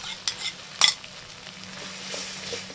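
A spoon scrapes through fish curry in a pan as whisked yogurt goes in, with a couple of sharp clinks early and a soft continuous sizzle underneath, close and short.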